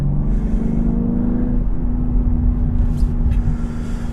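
BMW X3 M F87 Competition cruising on the Autobahn, a steady low engine drone and road rumble heard from inside the cabin, constant and close with a faint tonal hum running through it.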